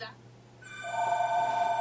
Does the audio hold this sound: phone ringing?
yes